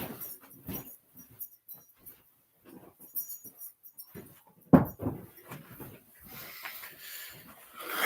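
A dog whimpers and shuffles about indoors in short, quiet bursts, with a sharper bump partway through and soft rustling toward the end, while no one speaks.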